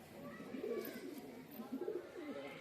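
Two pigeons in a loft give soft, rolling coos close by, repeating in low throaty bursts over quiet background hiss, with no talking.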